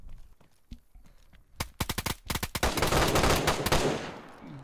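Gunfire in the survival video game DayZ on PS4 at an airfield: a few sharp distant shots, then a rapid volley of loud close shots that runs into a dense, sustained burst of automatic fire.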